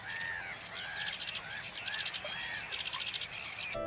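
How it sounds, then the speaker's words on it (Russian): A marshland chorus of croaking tree frogs mixed with the busy, chattering song of reed warblers, calls repeating in quick overlapping bursts at moderate distance over a low ambient hum. "неутихающие песни камышовок и древесных лягушек-квакш"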